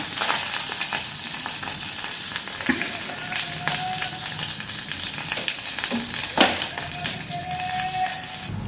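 Onion hits hot oil with mustard seeds and dried chillies for sambar, producing a loud, steady crackling fry with a few sharp spatula knocks and scrapes.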